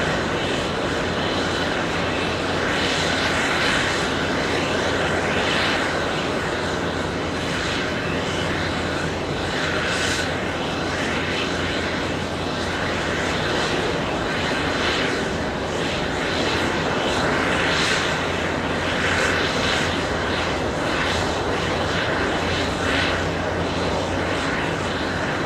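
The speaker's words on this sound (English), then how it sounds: "American 2423 flying in from Dallas, Fort Worth." An American Airlines Boeing 737-800 arriving at JFK from Dallas Fort Worth, a long, sustained jet engine roar that stays loud and steady, with slow swells in the whine as it passes.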